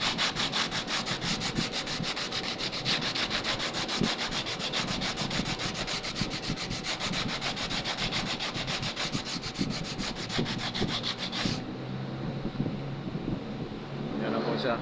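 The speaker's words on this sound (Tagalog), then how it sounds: "Lilihain po natin." Sandpaper rubs back and forth along the freshly cut edge of a Formica laminate sheet in steady, close, continuous strokes that stop abruptly near the end, leaving quiet background.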